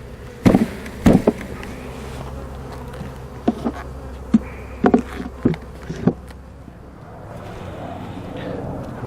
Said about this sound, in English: I'm going to try and find some nurse bees and shake them off in here.